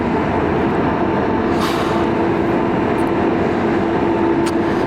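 Eurotunnel shuttle train interior rumble heard while boarding by motorbike, a loud steady low roar with a faint sustained tone and brief hissing bursts, no voices.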